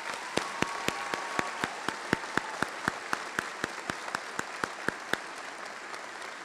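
Steady applause from a commencement crowd for master's degree recipients, sounding somewhat distant, with a few sharper individual claps standing out at an even rhythm.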